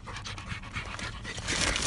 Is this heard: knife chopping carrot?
no